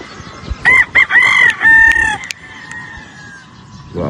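A yellow-legged Dutch gamefowl rooster at a game farm crows loudly and nearby in a drawn-out call, followed by softer clucking.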